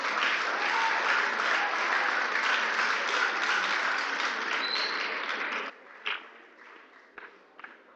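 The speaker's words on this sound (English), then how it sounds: "Applaud yourself" Children applaud themselves at a children's gardening and small animal rearing competition in Ghana: sustained, dense clapping from a large young crowd for about six seconds, then an abrupt stop leaving a few stray claps and taps.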